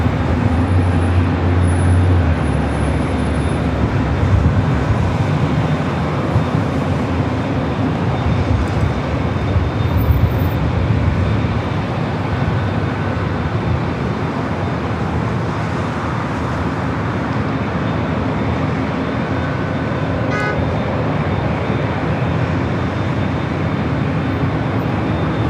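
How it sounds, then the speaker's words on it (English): Air Canada Airbus A220-300 jet on its takeoff roll at LAX, a broad, steady roar heard from a distance that holds for nearly half a minute, blended with background airport and traffic noise. "Air Canada Flight 7051 heading to Vancouver, and Airbus A220-300, I guess, will"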